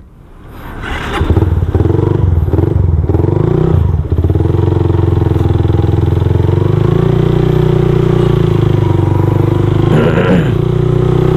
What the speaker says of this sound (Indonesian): Motor keren.